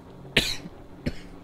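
A child coughs twice in the Walking Dead game episode Starved For Help, a sharp near cough followed by a softer second one after a short pause.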